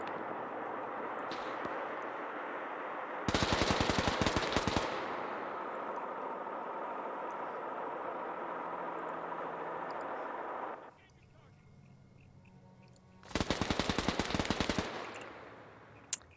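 Video game gunfire tearing through a building: two loud bursts of rapid automatic fire a few seconds apart, over a constant background roar, with someone talking at times.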